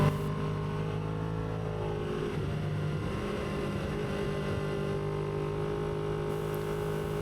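A motorcycle engine drones steadily as the bike heads out onto a race track, a continuous, fairly distant hum with no talking.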